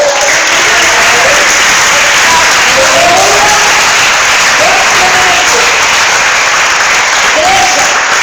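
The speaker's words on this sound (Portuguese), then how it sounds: "Vamos aplaudir o Senhor." A church congregation applauds loudly and continuously during a sermon, a thick, sustained roar of clapping with shouting voices rising and falling beneath it.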